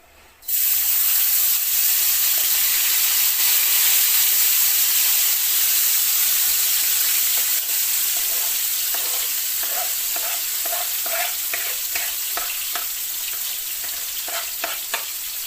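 Cumin hits hot oil in a pan along with tomatoes, onion, thyme, garlic and ginger for a Jamaican brown stew fish, bursting into a loud, steady sizzle that settles slightly while a spoon stirs with light scraping taps.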